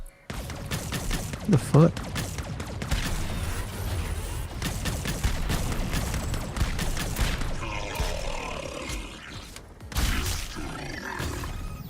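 Pistol gunfire in the arcade shooter Arcadegeddon during a one-on-one fight, a dense stream of sharp shots and game effects running throughout under loud game audio, with a voice speaking briefly near the start.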